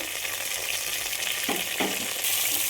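Mixed vegetables are stir-fried with shallots in a pan, giving a steady loud hiss of frying. A couple of stirring scrapes come partway through, and the sizzle swells toward the end.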